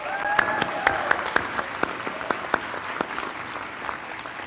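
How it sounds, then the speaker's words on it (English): Commencement audience at South Suburban College applauding graduates, a steady wash of clapping with a few sharper claps standing out, moderately loud throughout, with a brief voice near the start. "Let's again give these graduates a round of applause"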